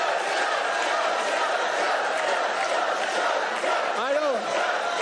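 Crowd at a debate cheering and shouting in a loud, continuous roar that holds steady throughout, with a few voices rising above it.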